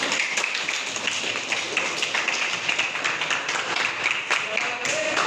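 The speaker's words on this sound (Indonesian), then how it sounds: "Ya, tepuk tangan" A class of students applauds a classmate in a school classroom, a dense, steady patter of many hands clapping close by for about five seconds without a break.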